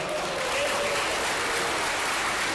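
An audience at a 1999 comedy show of celebrity lookalikes in Opatów applauds, a fairly soft, even wash of many hands clapping that holds steady without pause.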